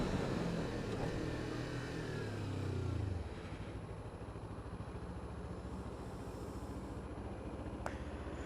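A small displacement motorcycle cruises in fourth gear at around 5,000 RPM and roughly 50 mph. A steady engine drone blends with rushing wind from onboard. The engine pitch drops slightly partway through, and the ride continues evenly.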